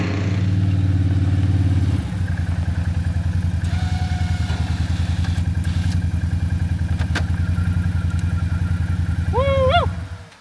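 Four-wheeler pulling a brush-clearing tool on homestead land, a steady near engine drone with clattering that shifts in pitch around two seconds, followed by a few rising squeals near the end.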